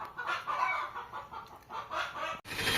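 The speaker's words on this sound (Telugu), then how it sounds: "కోళ్ళు అయితే మొత్తుకుంటున్నాయి, గుడ్లు పెడుతున్నాయి" Hens cluck loudly and continuously in a farmyard, a busy overlapping chorus of rhythmic clucks with bursts of squawking, close and prominent, with no talk.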